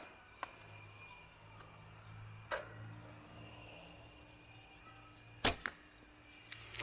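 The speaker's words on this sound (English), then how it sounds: "This bow on 10 meter distance with the lightweight wood arrows." Alibow Xuanwu bow shooting lightweight wood arrows at 10 meters: a few sharp, isolated snaps and thuds, one much louder than the rest, spread over a quiet background with no talk.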